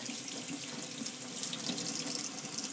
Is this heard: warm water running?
yes